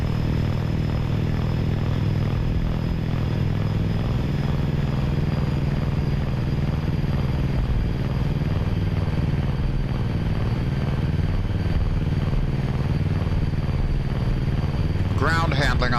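An AOA VTOL aircraft in X-Plane 11 taxis with its nacelles tilted, a steady loud propeller and engine drone with a low rhythmic pulsing throughout, and a brief higher whine at the very end.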